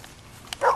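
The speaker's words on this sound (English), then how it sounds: "It's nice to have some dogs around camp." A dog at camp in Red Dead Redemption 2 gives a single short, sharp bark near the end, close and fairly loud over a quiet background.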